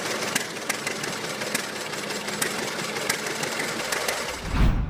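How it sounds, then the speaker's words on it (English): The two-cylinder engine of a John Deere Model D tractor runs steadily nearby with a rapid, rhythmic popping beat. "The Model D carried a 2-cylinder engine, famously nicknamed the Johnny Popper"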